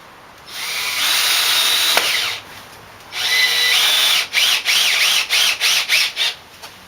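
A power drill drives screws into pre-drilled holes in plywood. It gives two long, loud whirring runs followed by a string of short stop-start bursts as each screw seats, close up.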